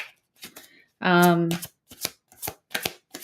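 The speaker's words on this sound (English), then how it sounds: "now we're going to take a map, the Enchanted Map Oracle card from Colette Baron Reed" Enchanted Map Oracle cards are shuffled in one brief, close riffling burst of paper flutter, set among a woman's quiet, soft-spoken talk.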